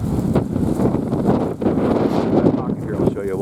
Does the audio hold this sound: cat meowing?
no